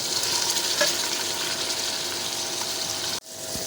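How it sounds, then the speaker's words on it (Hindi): Tinda (apple gourd) tipped into a sizzling tomato masala, a loud continuous frying hiss that cuts off sharply near the end before the sizzle picks up again. "ये देखिए अब हम इसमें टिंडे डालेंगे।"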